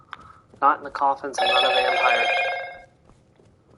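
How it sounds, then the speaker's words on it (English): A mobile phone rings loudly with a bright, repeating electronic ringtone lasting over a second, right after a man's short spoken remark. "that was my phone going off"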